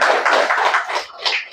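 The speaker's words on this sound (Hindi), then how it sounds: "पहले ताली बजाओ।" Audience clapping at a spiritual talk in Gondia, a dense burst of many hands applauding together for a second and a half, fairly loud and continuous, fading slightly toward the end without any speech over it.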